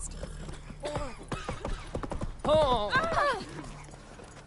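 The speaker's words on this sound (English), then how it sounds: "Hear these types? Horses in the" Horse hooves clip-clopping in a video game, soft irregular clopping beneath a man's exclamation and speech.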